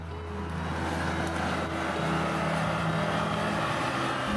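A BMW M4 CSL's turbocharged engine pulls on a race circuit. It gives a steady, loud, droning growl with a sustained low hum and rising tonal whine, heard continuously from inside the car.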